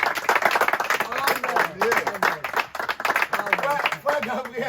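A gathering audience applauding and cheering, with fast, dense handclaps mixed with excited voices calling out, loud and close for several seconds.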